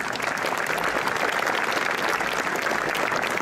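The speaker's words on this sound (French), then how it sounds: "Je crois que vous pouvez les applaudir aussi." Audience applause fills the room at an exhibition opening in Châtillon-sur-Seine, a steady, dense patter of many hands clapping at even loudness throughout, with no voices on top.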